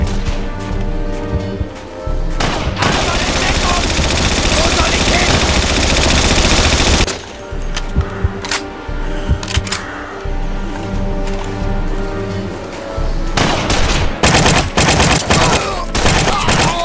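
Heavy broadside cannon fire in the WWII game Battlestrike Shadow of Stalingrad: a long, dense roaring barrage of rapid blasts that breaks off, then scattered loud bursts and renewed volleys, with some voices mixed in.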